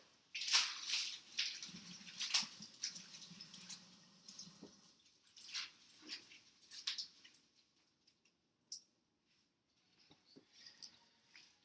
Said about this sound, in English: So, rinsing the kale again.